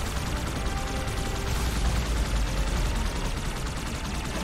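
Dense, continuous gunfire crackles and rattles without pause in the video game Halo 2, a busy wash of rapid shots in a loud, chaotic firefight.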